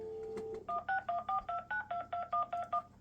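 Telephone keypad tones dial a ten-digit number: a quick run of short, evenly spaced dual-tone beeps, clear and close, following a brief dial tone with no voices over them.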